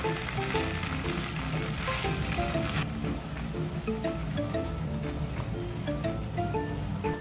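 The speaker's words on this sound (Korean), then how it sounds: "간장 2, 토마토 케첩 4, 식초 1, 버터 3 비율로 넣고 볶아줍니다" A sauce of soy sauce, ketchup, vinegar and butter sizzles loudly as it is stir-fried in a pan, a dense continuous crackle with scattered spatter and scraping, easing slightly after a few seconds.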